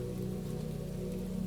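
Steady rain falls onto water in a continuous, even hiss with a soft patter, close and fairly loud, with no voices.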